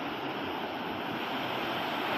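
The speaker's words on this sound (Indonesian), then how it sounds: "Kita sudah sampai di air terjun Parangloe" Steady, loud rushing water from the Parangloe waterfall, a dense unbroken roar with no voices.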